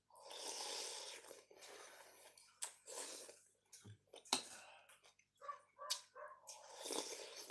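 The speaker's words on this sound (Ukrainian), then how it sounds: "Не, пес гавкає просто." A dog barks and yelps in short irregular bursts, fairly faint, with some clicking and shuffling noises between.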